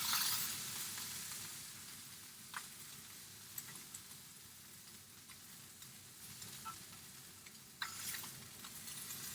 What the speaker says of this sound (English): You're not cooking it here, you're just searing it.